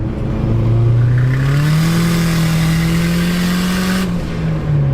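A turbocharged Datsun wagon fitted with a GT3582 turbo accelerates hard, its engine note climbing loud and close in one sustained pull before easing off near the end.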